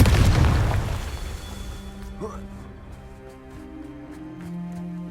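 A Confringo blasting spell goes off in Hogwarts Legacy with a loud, deep boom right at the start. It fades over a few seconds, leaving quieter magical effects and faint clicks behind.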